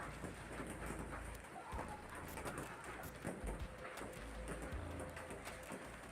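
A hailstorm with rain and thunder in Anhui, China, brings a dense, steady roar of heavy rain and pelting that continues throughout, with a few low rumbles beneath it.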